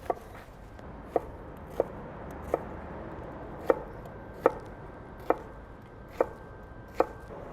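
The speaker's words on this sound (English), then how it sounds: "I'm just gonna take apart a couple of shallots, about 6 tablespoons. We'll get them peeled and chopped up" A knife chops peeled shallots on a cutting board in a home kitchen, with about ten sharp, evenly spaced taps, close and fairly quiet with no voices.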